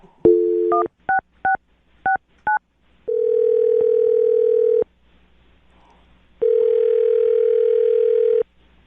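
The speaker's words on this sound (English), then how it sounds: "I'm going to dial the phone number right now and see if we can get him on the phone." A short run of touch-tone telephone dialing beeps, then two long, steady ringback tones separated by a pause, loud and clear with no talking.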